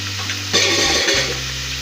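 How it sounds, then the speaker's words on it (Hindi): Garlic ginger paste fries with potatoes in a pan for a potato curry, a steady sizzle with a brief stirring scrape midway, close and alone. "ये लहसुन अदरक फ्राई हो गया।"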